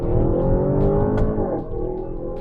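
A 2023 Audi RS7 launches hard under launch control, its engine a loud, close, deep roar that rises in pitch through the run, with a brief dip as the gear changes before it keeps pulling.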